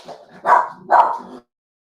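A dog barks twice in quick succession, loud and close, then silence.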